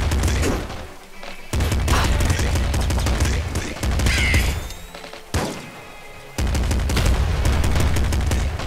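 Explosions and rapid gunfire from the Nuclear Throne video game, with dense bursts of shots and booms coming in loud waves separated by brief lulls.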